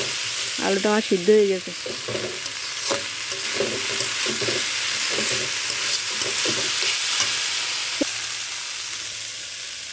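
Potatoes and a generous amount of onion frying in a pan while being stirred, giving a steady broadband sizzle throughout with soft scraping, and someone speaking briefly at the start.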